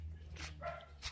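A dog gives a few faint, quick yips or barks while out on a walk, heard at a distance over steady background hum, with no one talking.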